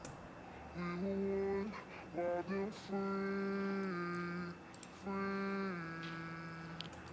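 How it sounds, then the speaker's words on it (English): A sung female lead vocal doubled by a copy pitched down an octave, giving deep layered sustained notes in about three phrases with short gaps, heard alone without backing instruments. "an effect I've done is actually duplicated the main vocal and pitched it down by 12 semitones"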